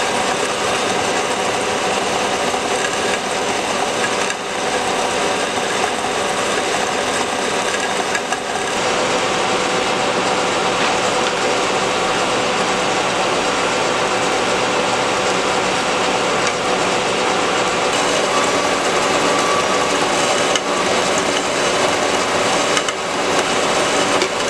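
A DoAll bandsaw cuts at 50 RPM with a slow feed, running as a steady, loud mechanical whir and hiss that stays constant for the whole stretch, with no talking.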